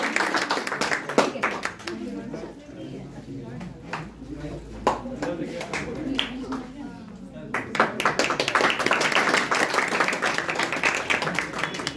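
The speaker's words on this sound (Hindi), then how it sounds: "जोरदार तालियों से स्वागत किया" Audience clapping to welcome an honoree at a student felicitation ceremony, as sustained loud applause from a crowded hall that dips briefly midway and then swells again, with bright, sharp individual claps standing out.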